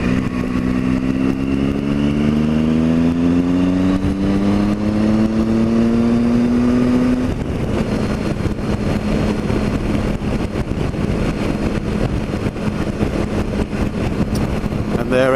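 A Triumph Tiger 1050 motorcycle fitted with an MRA Vario screen rides along a road, its engine note rising through the revs and then holding a steady drone beneath loud, constant wind rush.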